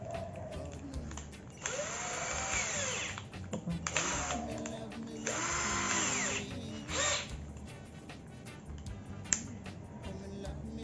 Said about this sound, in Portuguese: Agora eu vou trocar e vou colocar um bit para parafusar